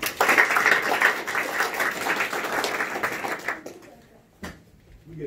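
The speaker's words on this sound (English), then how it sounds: "let's give him a round of applause" A county political party audience claps for a state representative candidate about to speak, with a loud burst of dense applause that fades out after about three and a half seconds, leaving a quiet room and a single thump.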